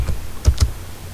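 Someone types a router command on a computer keyboard, producing a few crisp, close keystroke clicks in quick succession over faint room tone.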